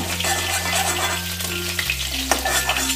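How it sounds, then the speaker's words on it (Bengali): Aar fish frying crisp in hot oil in a pan, a loud, steady sizzle and crackle up close with occasional scraping of a spatula, over a low steady kitchen hum. "আর মাছগুলো আমি একটু কড়া করেই ভাজলাম"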